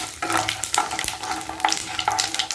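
Mustard seeds splutter in hot oil, crackling and popping in quick irregular bursts over a soft continuous sizzle, close up and with nobody talking.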